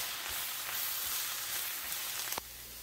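A third cup of flour cooks in a pot for collard greens soup, giving a steady, faint, even sizzle with a small clack near the end.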